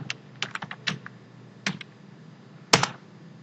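Typing on a computer keyboard, with scattered quick key clicks in short bursts and pauses, one sharper keystroke near the end, close and fairly quiet.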